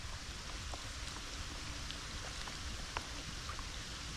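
Steady rain patters on an outdoor swimming pool and surroundings during cleaning, a dense, even wash of light drops with occasional sharper individual splats, moderate and continuous with no talking.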